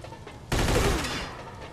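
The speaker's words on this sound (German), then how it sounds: "So, fünfmal ins Bein geschossen" A burst of rapid gunfire in the Mafia 2 video game, one loud close volley that cuts in abruptly and rings out over a second before fading into quiet background.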